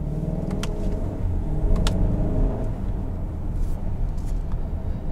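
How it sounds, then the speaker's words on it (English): A 2021 Kia Sorento SX X-Line with a dual-clutch gearbox pulls away from a standstill, its engine rumbling low and steady from inside the cabin, rising gently as it accelerates with a couple of faint clicks above the drone. "Come to a complete stop, see what this dual clutch does from a light."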